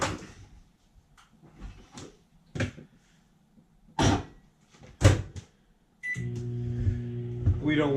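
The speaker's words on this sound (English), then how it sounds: "I'm going to just throw this inside the microwave for about" A kitchen microwave oven is loaded with sourdough starter, with door clunks and handling knocks at first, then the oven starts up and hums steadily for the last couple of seconds.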